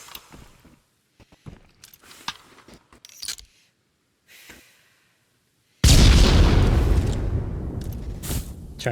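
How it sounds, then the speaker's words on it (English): Grenade explosions from the video game Contractors Showdown: soft scattered thuds and clicks, then one loud, close blast that booms and rumbles away over several seconds. "Trying to throw grenades at me."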